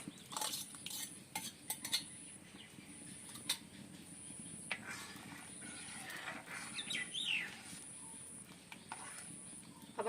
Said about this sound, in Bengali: আবার দুধটা নাড়তে থাকবো